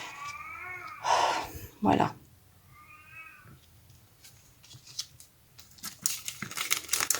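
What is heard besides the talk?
cat meowing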